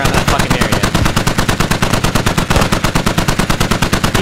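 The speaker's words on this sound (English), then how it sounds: "just fucking put volume of fire on that fucking area" Rapid automatic gunfire in the video game Squad, a loud, continuous stream of evenly spaced shots that lasts the whole time, close and dominant.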